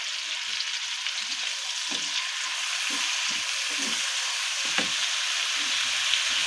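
Ground spices and salt being stir-fried for a koi fish bhuna make a constant, close hiss of frying. A spatula scrapes the pan in regular strokes throughout, with no voices.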